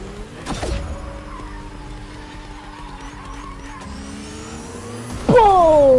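Car driving on its own in a video game, a continuous engine drone with tire skids and squeals, a sharp screech near the start and a louder rising rev near the end, close and prominent.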